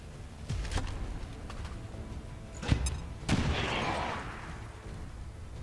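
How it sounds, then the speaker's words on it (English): A grenade goes off in the XCOM 2 video game, with several sharp gunfire-like bangs followed by a sustained rumbling blast that fades slowly, and no talk over it. "I think this blows up enough. Grenade!"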